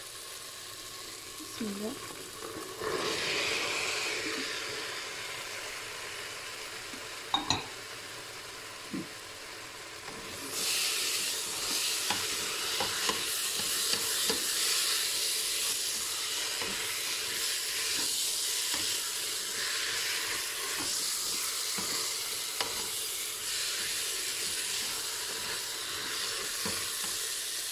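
White beans tipped into a hot, sizzling Cookeo multicooker pot for Moroccan-style loubia, a steady frying hiss that swells louder partway through and continues with stirring clatter and a brief spoken word.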